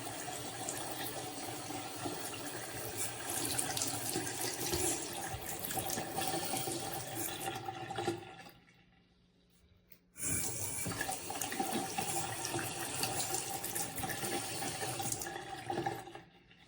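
A bathroom waterfall faucet runs hard and splashes into the basin, a loud steady rush that stops for about two seconds mid-clip before gushing again at full flow.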